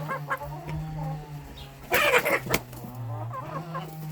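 Chickens and an old crested rooster cluck in a farmyard, with scattered close clucks and a louder burst of squawking midway over a steady low hum.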